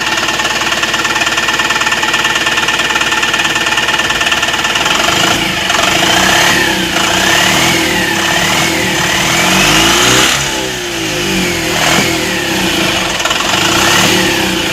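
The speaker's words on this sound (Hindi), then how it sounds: "जैसे हम इसमें दबाते हैं अभी ये पूरा एक्सीलेटर ले रहा है" Maruti Suzuki Super Carry Turbo diesel engine revving loudly and steadily as the accelerator is pressed after a diesel filter change, with a continuous rough mechanical drone rising and falling in pitch, no talk.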